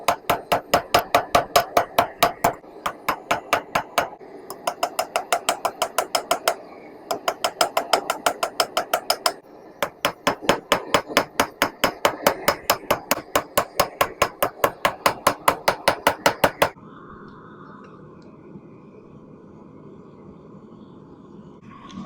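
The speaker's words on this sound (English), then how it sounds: "I'm just gonna start drawing out that round taper." Hammer forging a railroad spike, drawing out a round taper: loud, rapid metallic blows in steady bursts of dozens of strikes separated by short pauses, ending in a quieter stretch of low background noise.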